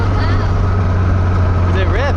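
A BMW E46 drift car's engine drones loud and steady with a strong low hum close by, while a voice speaks briefly toward the end.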